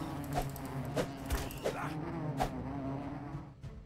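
Buzzing bee in the ATLAS game, a steady insect drone with a few sharp impact hits over it, no voices.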